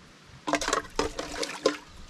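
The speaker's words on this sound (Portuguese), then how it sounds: "Agora vou lavar a louça" Tap water splashing and running in a home kitchen sink during dishwashing, in short irregular bursts of splashing and clatter, fairly close and moderately loud with no talking.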